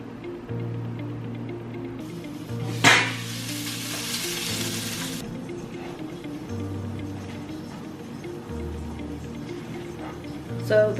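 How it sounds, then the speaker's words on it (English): Pesto-topped salmon fries in a pan with a continuous gentle sizzle, broken by a brief louder burst of hissing and a couple of sharp utensil clinks. "So the pesto salmon is cooking"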